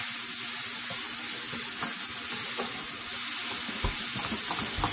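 Cheeseburger pie filling of meat and onion seasoned with onion powder cooking in a pan, a steady close sizzle with faint scattered pops and stirring scrapes throughout, no voices.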